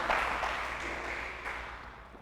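A church congregation claps in praise, a broad wash of applause that stays steady and moderately distant before slowly thinning out.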